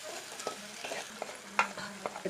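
Beans and coriander frying in a pan, with a gentle sizzle beneath a series of scraping, clinking stirs from a spoon at an irregular rhythm, close and fairly quiet.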